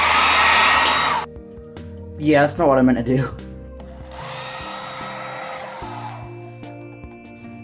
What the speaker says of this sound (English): I'm gonna use my mum's hairdryer to speed up the process.